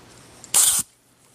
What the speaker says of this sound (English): what we're going to do is spray a little deoxit in there